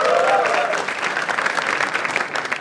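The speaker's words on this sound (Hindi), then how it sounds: "एक बार जोरदार ताली for Jaspreet Singh also." A live comedy show audience claps loudly and continuously, with a brief cheer or whistle at the start, a sustained crowd applause that stays strong throughout.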